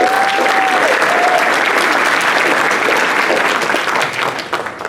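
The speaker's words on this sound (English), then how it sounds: "You deserve a round of applause" Loud, dense applause from an audience at an installation of officers and awards ceremony, sustained and even before tapering off near the end.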